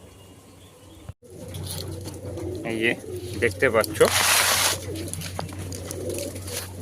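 Pigeons recently recovered from a cold and mouth sores coo close by in low, throaty bursts, while someone talks over them and wings briefly flutter.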